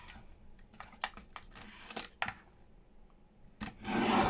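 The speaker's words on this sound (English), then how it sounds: "Cut this side down and cut this side down." Paper for postcard envelopes in a junk journal is cut in several short, close, crisp snips and rubbing strokes, spaced irregularly, ending in a louder rustling swell.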